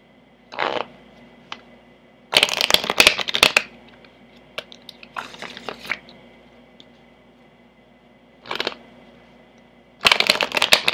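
Rider tarot cards are shuffled in several separate bursts of riffling and flicking, close and fairly loud, with short quiet gaps between them and no talking.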